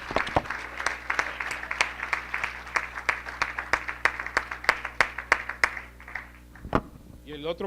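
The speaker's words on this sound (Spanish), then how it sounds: "Denle un aplauso al Señor como Él se lo merece" A church congregation claps during a sermon, crisp sharp claps landing in a loose, fairly regular rhythm, moderately close, fading out near the end as a voice briefly returns.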